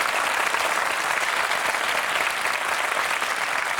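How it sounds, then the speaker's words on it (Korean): Sustained applause from an audience at a televised military training camp event in Korea, a dense, steady wash of many hands clapping at even loudness throughout with no talk. "박수 한번 주세요."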